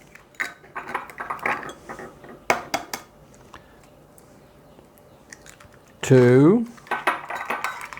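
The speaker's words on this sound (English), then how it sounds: "To that, I'm going to add 3 eggs." Eggs cracked one after another against a bowl edge and dropped into pumpkin cake batter, giving sharp close knocks and clinks, with a person counting aloud between them.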